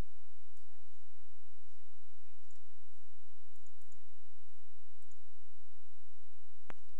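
A single sharp computer mouse click near the end of an otherwise quiet stretch, with a couple of fainter soft clicks earlier.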